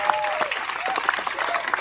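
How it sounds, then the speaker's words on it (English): A crowd claps, a burst of applause with dense, overlapping hand claps lasting a couple of seconds. "Give him a round of applause."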